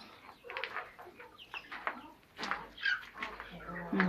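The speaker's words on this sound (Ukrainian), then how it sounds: "О, сидить курка." Hens cluck in short, close bursts in a backyard chicken coop, with scattered quieter clucks and soft shuffling between the calls and a brief clink near the end.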